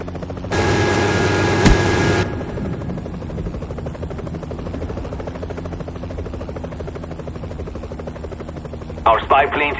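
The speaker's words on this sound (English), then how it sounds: "Hind on the way." Hind attack helicopter in Call of Duty Black Ops, a steady rotor and engine drone running throughout under loud game noise, with a brief harsh burst near the start and sharper bursts near the end.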